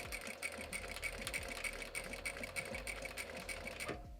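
A sewing machine stitches bias tape with a steady, close whirring hum of rapid needle strokes running continuously, then stopping abruptly near the end.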